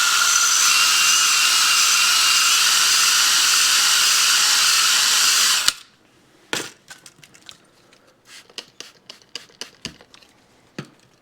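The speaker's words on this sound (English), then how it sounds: "I'm going to use a ball hone on my cordless drill here" A ball hone spins on a cordless drill inside a lubricated Suzuki TC90 motorcycle cylinder, giving a loud, steady whirring grind for about five and a half seconds. It then stops abruptly, followed by scattered clicks and knocks.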